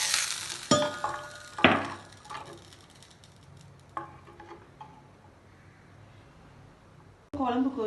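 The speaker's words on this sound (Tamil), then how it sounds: "குழம்பு கொதிச்சிட்ருக்கு" Ash gourd buttermilk curry (moor kulambu) boiling on a stove, with soft bubbling and sizzling broken by a few sharp clinks, fading quiet midway before a denser burst of bubbling at the end.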